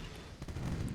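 Cannon fire in the naval strategy game Age of Pirates: a sharp boom lands midway, followed by a rumbling low roar of further blasts that stays loud to the end.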